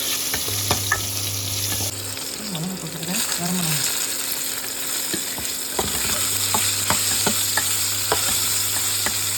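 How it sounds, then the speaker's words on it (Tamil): Garlic and chilli with rock salt sauté in a pan, a continuous close sizzle broken by scraping stirs and sharp clinks of a spoon, with a low steady hum underneath. "இதை நல்லா வதக்கிட்டு ஆற வச்சு"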